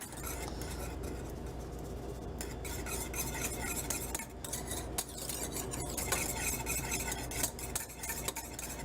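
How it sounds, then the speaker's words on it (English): Gravy mix being stirred in a pot as it boils, a steady scraping and clinking of a utensil against the pan over a continuous bubbling, sizzling bed, close and fairly loud throughout. "Just want to make sure you're stirring it while the gravy is boiling."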